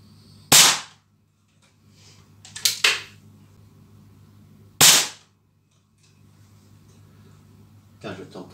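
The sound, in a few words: air pistol shots, Beeman P17 and HW40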